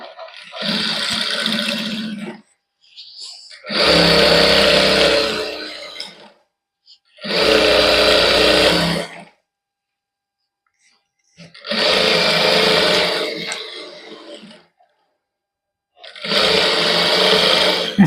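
Sewing machine stitching lace onto a salwar, running in five loud steady bursts of about two seconds each, separated by short pauses.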